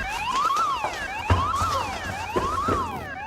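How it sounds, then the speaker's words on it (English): An alarm blares inside a bunker, rising and falling in a wailing siren pattern that repeats about every second, steady and fairly loud with no talk. "Alarm, Bill."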